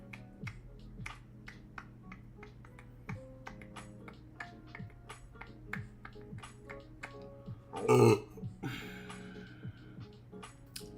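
A short, low burp erupts from a streamer partway through, rising over a quiet background of faint clicks and taps.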